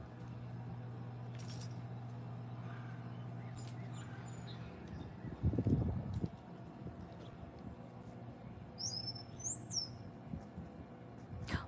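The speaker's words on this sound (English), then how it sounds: "there's a little house finch" A few brief, high chirps from a house finch in a backyard, coming late and fairly faint over a low, steady background hum with some nearby handling noise.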